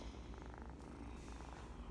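A sleeping striped pet cat purrs softly in a faint, steady, rhythmic rumble, close but very quiet, with no voices.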